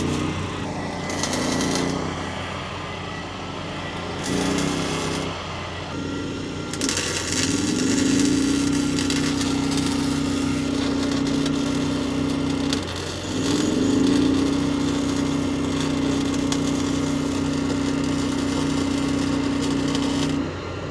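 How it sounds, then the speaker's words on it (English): A generator engine powering a welder during a roadside RV frame repair drones steadily in the background under a continuous buzzing hum, with a few brief pauses and surges in loudness. "You can hear the generator rocking in the background, which powers the welder."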